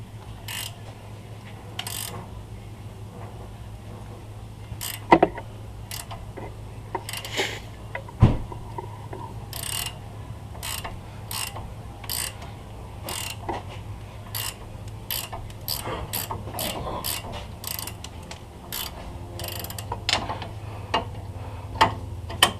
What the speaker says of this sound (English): So then I find the easiest way to do this is actually to remove the upper ball joint. So it's an 18mm